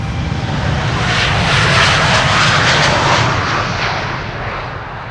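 A departing airliner at Amsterdam Schiphol Airport roars loudly during its takeoff run, a broad powerful jet-engine rumble that swells to a peak and then slowly fades as the plane climbs away.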